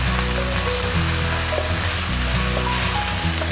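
Steady, loud sizzling of garlic and shallots frying in hot oil, continuous crackle with faint background noises.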